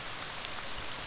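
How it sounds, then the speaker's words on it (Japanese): Steady rain falls inside a room in the horror puzzle game Ib, a soft, even patter with no breaks, faint and close, heard alone. "部屋の中なのに雨が降ってきた。"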